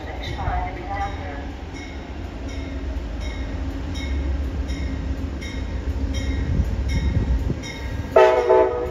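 A Hartford Line train sits at a station, its low rumble steady throughout while a station announcement voice plays over it, and a brief sharp burst of sound near the end.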